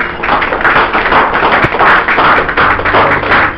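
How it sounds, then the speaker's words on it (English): Audience clapping at an evening business training event, a steady dense wash of many hands filling the room continuously, fairly loud and close, with no talk over it. "Mr. Hari Kumar, Area Sales Manager, I think he also deserves a great clap. Give an applause"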